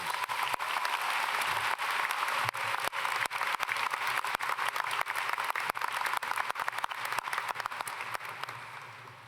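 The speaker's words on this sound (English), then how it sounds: "One more round of applause for our valedictorians" A graduation audience at Beavercreek High School applauds the valedictorians, a dense, steady roar of many hands clapping that fills the hall without pause and fades slightly at the end.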